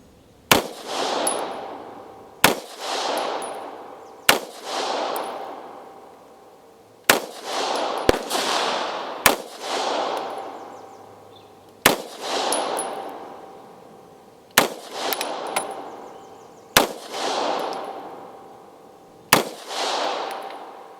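An Ultra Star 9mm pistol fires 115 grain ammunition on a gun range, each loud, sharp report followed by a ringing, echoing tail. About a dozen shots come at irregular intervals of roughly two seconds, a few in quick pairs, with no talking.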